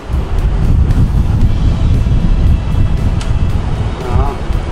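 Running at its third and highest fan speed, an Asanzo A-6000 evaporative air cooler (40 L, 150 W) produces a loud, close, steady roar of rushing air with a buffeting, wind-like texture throughout.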